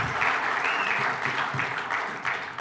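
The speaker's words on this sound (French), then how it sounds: "On applaudit très fort Xavier Belz" A short burst of audience applause rises as a panelist is introduced at a round-table session with asset management firms, a full, close wash of clapping that holds steady and tapers slightly at the end.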